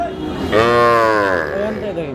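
A single cow moos in one clear, drawn-out call lasting about a second at a cattle market, close and loud over a low background murmur.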